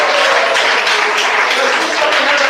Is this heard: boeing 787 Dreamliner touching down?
no